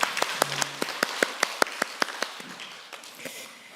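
A church congregation at a Wednesday worship service claps together in a brisk, fairly even rhythm for a few seconds, the claps thinning and fading toward the end.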